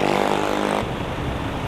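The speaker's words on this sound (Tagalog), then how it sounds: "Ganda-ganda ng motor, naka-NMAX." A Yamaha NMAX motor scooter passes close by on a city road near Aurora Boulevard, its engine a steady buzzing drone that drops into rougher, broadband road noise partway through; no talk.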